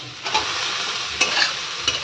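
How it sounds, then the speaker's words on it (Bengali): Steady sizzling of chopped onions frying in a pan until browned, with a few sharper scraping strokes of a spatula stirring through the hiss. No talking. "পেঁয়াজটা ভাজা ভাজা হয়ে গেছে এবার দিয়ে দেবো টমেটো কুচি"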